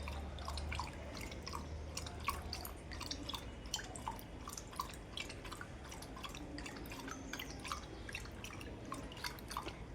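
A dog eating rice close by, with quiet repeated wet smacking and chewing clicks in an irregular rhythm, soft and up close with no talking.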